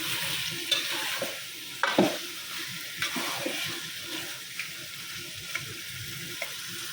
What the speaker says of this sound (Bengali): এই যে আলুটা কালার করে ভেজে নিচ্ছি